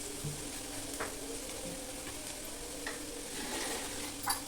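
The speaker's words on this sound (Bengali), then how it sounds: "এর ভিতর অল্প পরিমাণ জল দিয়ে দেবো" Spice paste frying in a kadai for a shol fish, potato and eggplant curry, a low steady sizzle with light stirring clinks, close and alone without speech.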